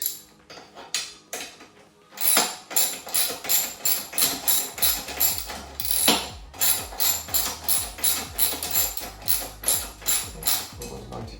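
Ratchet wrench tightening bolts during assembly of a 48V 1200W brushless XL electric quad, a long run of rapid, evenly spaced metallic clicks close up, alone after a few scattered knocks at the start.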